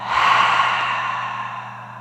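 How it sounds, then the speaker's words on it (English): A long, breathy exhale through the mouth during a calm yoga breathing exercise, one steady airy rush that starts strong and slowly fades over about two seconds, close and alone with no talking. "Exhale through the mouth."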